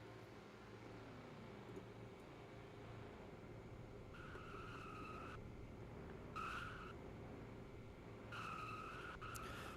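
Cars in a racing video game at South Boston Speedway squeal their tires during burnouts, with three distinct bursts of screeching rising over a steady, quiet engine drone.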